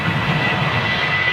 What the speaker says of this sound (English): Little BA 320 going out.